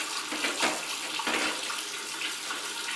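Tap water runs steadily from a faucet in a six-year-old townhouse during a plumbing inspection, a continuous broadband splashing hiss at close range with slight surges and no talking.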